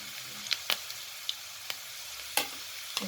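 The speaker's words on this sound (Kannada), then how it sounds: "ಇದು ಸ್ವಲ್ಪ ಫ್ರೈ ಆಗಲಿ." Snack ingredients frying in a pan, a faint steady sizzle broken by a few sharp pops and spoon scrapes, with no voices.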